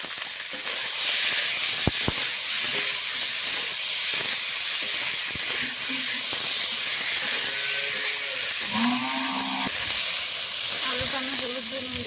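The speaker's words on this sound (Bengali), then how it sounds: "সিদ্ধ করা আলুটা ভেজে নেব।" Boiled potato, seasoned with turmeric and salt, frying in hot oil: a constant close, bright sizzling hiss holds for the whole stretch, broken by a couple of sharp knocks and some faint background sounds.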